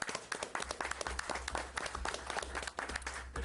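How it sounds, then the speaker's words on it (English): A room of people at a county fiscal court meeting breaks into a steady round of applause, dense overlapping claps at a fairly low level with a low hum beneath, continuing for several seconds. "I'd just like to everybody give them a round of applause."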